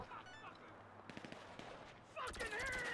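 Gunfire in the video game GTA Online comes as quiet bursts of automatic shots, a brief volley in the middle and a denser burst at the end, mixed with other faint game sounds.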